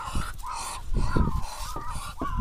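Several loud, nasal quacking calls from domestic ducks close by, coming in overlapping bursts with short gaps between them.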